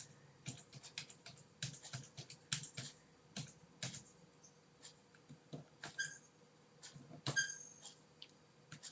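Typing on a computer keyboard to enter a username, a quick irregular run of crisp close key clacks with brief pauses and a few louder strokes.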